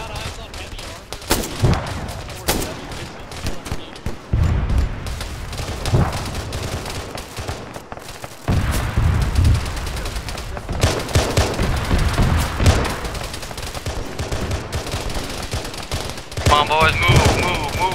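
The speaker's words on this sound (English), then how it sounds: "Hey, stop shooting at me." Gunfire in the military shooter Arma: dense bursts of automatic fire and single shots crack throughout, mixed with booms and radio-style voices of players talking over the shooting.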